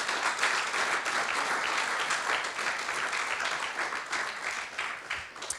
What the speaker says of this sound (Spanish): Denle un aplauso al Señor, por favor